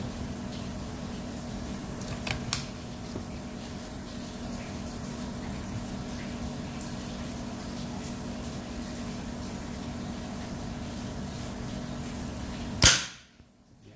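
A single sharp PCP air-pistol shot near the end, a crisp pop with a quick decay, following a long stretch of steady low hum with faint background noise.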